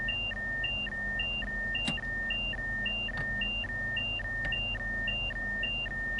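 A train cab warning alarm in Train Sim World 3 alternates between two pitches in a continuous, evenly paced loop, loud and close over the low rumble of the cab. A few faint clicks cut in, and no one speaks.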